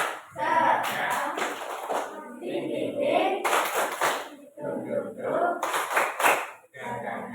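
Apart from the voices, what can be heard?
rhythmic group hand clapping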